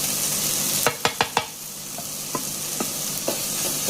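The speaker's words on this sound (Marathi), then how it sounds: "बरोबर मिक्स करून घे सारकें. तें मातशें तळसून जालें म्हणटकीर तितून सोय घालपाची." Tomato and spice masala frying in a pan under a steady sizzle, with a quick burst of three or four spoon clacks followed by a few sparser stirring knocks.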